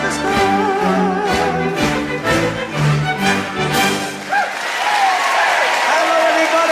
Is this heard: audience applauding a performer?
yes